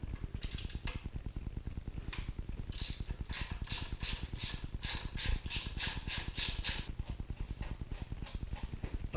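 A ratchet wrench fitted with a 20 Torx bit turns bolts on a 3.6 Pentastar Jeep Wrangler JK during oil filter cooler housing work, giving a fast, steady run of clicks throughout with bursts of louder metallic ticking in the middle.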